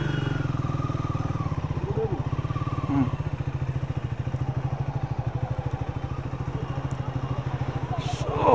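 A new motorcycle ridden through Kolkata traffic gives a steady, close, pulsing engine throb at an even pace, with faint traffic noise behind it and a rise in engine noise at the very end.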